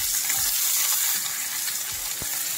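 Onions, green chillies, garlic and tomato frying in a pan, heard as a steady close hiss with a couple of faint low knocks, no talking.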